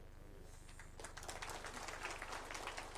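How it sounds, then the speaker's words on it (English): After a quiet second of low room hum, a conference hall crowd at the National Education Conference in Naivasha bursts into applause, the dense, crackling clapping continuing strongly to the end. "Please, another round of applause for Waziri."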